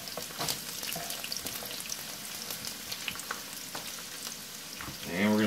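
Onions sautéing in a big sauté pan hiss and crackle steadily up close, with scattered pops and stirring, then a louder, rough scrape near the end.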